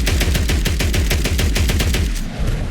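USAS-12 automatic shotgun firing in Fallout 4, a rapid string of about a dozen booming shots in quick, even succession, loud and close, with the burst trailing off at the end.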